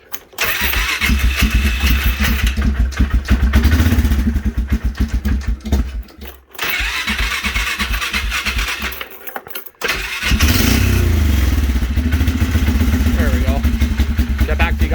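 A diesel engine on a Sears Suburban loader, idle for over a month and a half, cranks and catches several times, then settles into a loud, steady rumbling idle close by, with brief pauses between start attempts.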